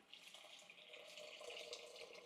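Water poured into a pot of amaranth (red spinach) sambar, giving a steady, soft splashing pour that runs evenly for a couple of seconds at close range with no voices.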